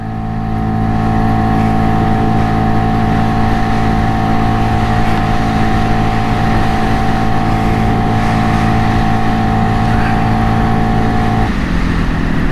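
A 2022 Segway AT6 SX 570 ATV accelerates on a speed run, its engine a loud, steady droning hum held close throughout before the pitch shifts near the end.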